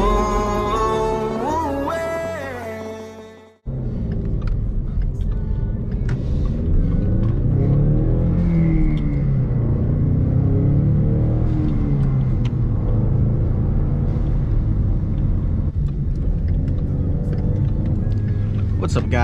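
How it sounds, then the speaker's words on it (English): Low, steady engine rumble of a Ford Mustang EcoBoost idling, continuous and close, following a brief burst of music, with someone talking over it. "Listen to that baby purr."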